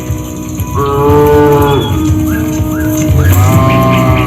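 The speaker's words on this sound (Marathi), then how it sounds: "सर्व गुरे भीमाच्या पायामधून जाऊ लागतात" A herd of cattle lowing close by: several long, drawn-out harmonic moos overlap and follow one another with no gaps, with no talking over them.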